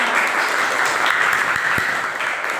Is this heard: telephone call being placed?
no